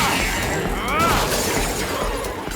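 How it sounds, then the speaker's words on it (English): Shattering enemies in the video game Travis Strikes Again, a dense crunching burst with glassy breaking layered over steady game noise and music, loud and continuous throughout. "The shattering noises and disintegration effects are very satisfying"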